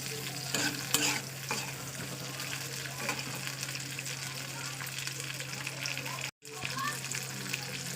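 Spice paste of ginger, garlic, chili and onion is stir-fried in a pan, giving a continuous moderate sizzle with repeated scraping and stirring scrapes, a low steady hum beneath and a brief dropout near the end.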